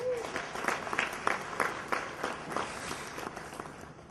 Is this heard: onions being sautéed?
no